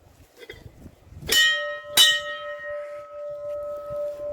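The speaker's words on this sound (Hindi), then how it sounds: "पहले घंटी" Two loud metallic temple bell strikes at Niti, Uttarakhand, about half a second apart, each leaving a long ringing tone that slowly fades, with faint background murmur.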